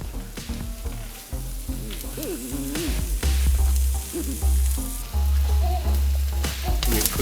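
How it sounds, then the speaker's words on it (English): Onions and peppers begin to sizzle as they hit a heated frying pan, a steady crackling fry that holds close and fairly loud through the whole stretch with occasional stirring, and no one talks over it. "Oh, and a little sizzle."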